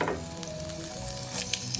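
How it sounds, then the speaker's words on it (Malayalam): Grated coconut frying in coconut oil in a pan for a prawn and raw mango curry, a soft, continuous close sizzle with light stirring clicks and no talk. "തേങ്ങ അതിലിട്ടിട്ട് നമുക്ക് നല്ല വറുത്തെടുക്കണം."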